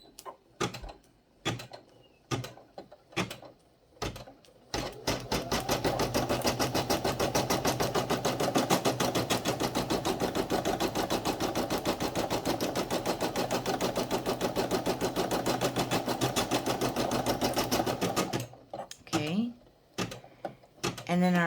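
An embroidery sewing machine runs an inside bean stitch on a scrappy fabric heart ornament, a steady fast mechanical chatter lasting about thirteen seconds, with sparse clicks before it starts and a voice speaking briefly at the end.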